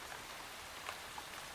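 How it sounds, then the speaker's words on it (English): Heavy rain pours down in a dense, steady hiss, with a few faint drips standing out briefly against the soft continuous wash. "Heavy rain poured down in torrents. The sound of the rain was like a tiny stream."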